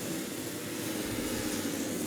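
Superbike engines rev at the start of a MotoAmerica race in Alabama, a loud, steady broadband roar that holds unbroken throughout with no voices.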